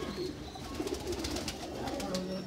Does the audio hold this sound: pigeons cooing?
yes